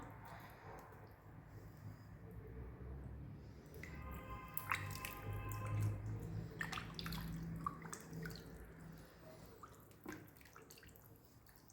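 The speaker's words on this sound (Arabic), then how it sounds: "جيت باه نغسلها. كما قلت لكم الماء راني درت فيه الخل والملح" Raw chicken pieces being washed by hand in water mixed with vinegar and salt, with soft squishing, sloshing and dripping in a basin over a steady background hum.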